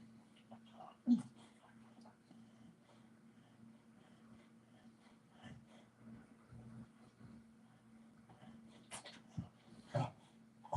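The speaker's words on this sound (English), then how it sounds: "Crazy dog." A dog whimpers and pants softly nearby against a steady background hum, with a few faint scuffs and a voice nearby.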